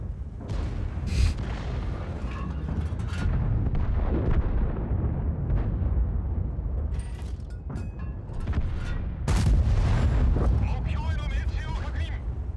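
Tank cannon fire from premium rounds in World of Tanks: several booming blasts with rumbling tails, sharp reports around the start and middle, under a steady game din.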